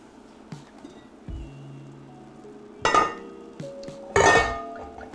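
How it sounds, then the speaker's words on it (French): Metal utensil scraping and clinking in a paella pan as seafood, garlic-spiced fish and mussels are stirred through rice, with a few louder clanks and scrapes over faint background sizzle; no one talks. "On va mélanger tout ça ensemble."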